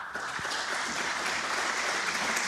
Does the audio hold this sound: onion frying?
no